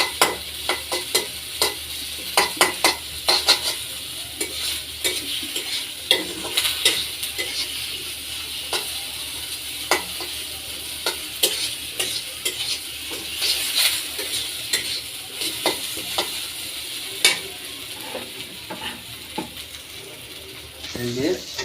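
Curry sizzles steadily in a frying pan while a spoon stirs and scrapes it, close and busy, with frequent clinks of utensil on metal for the whole stretch.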